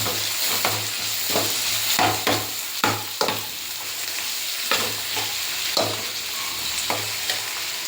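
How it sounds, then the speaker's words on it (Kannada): Masala with fresh coriander leaves frying for avarekalu sambar, with a steady hot-oil sizzle broken by repeated scraping stirs of a spatula against the pan, close and fairly loud, no voices. "ಚೆನ್ನಾಗಿ ಫ್ರೈ ಆಗಬೇಕು"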